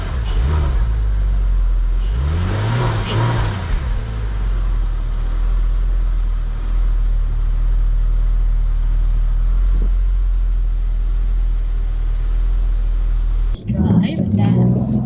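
A Porsche 911 Carrera 996 drives along a street, its engine a steady low rumble throughout with a couple of rising revs and shifting tones near the start and a brief change at the very end.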